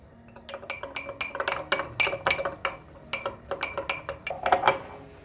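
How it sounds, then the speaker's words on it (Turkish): A spoon stirs vermicelli soup in a metal pot, rapid rhythmic clinks against the sides in quick bursts with short pauses, close and clear, no talking. "Şurada bir kaçak oluşmuş. Onu da hemen karıştırıyorum."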